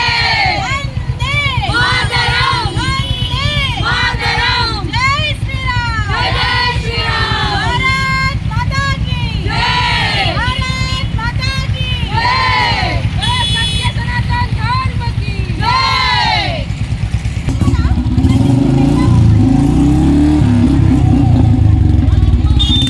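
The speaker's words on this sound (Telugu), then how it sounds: "భారత్ మాతాకి జై, జై శ్రీరామ్ నినాదాలతో బైక్ ర్యాలీ దద్దరిల్లింది" A large bike rally through the streets, with a crowd loudly chanting political and religious slogans in rhythmic bursts over a continuous rumble of motorcycle engines, followed by heavier engine and traffic noise near the end.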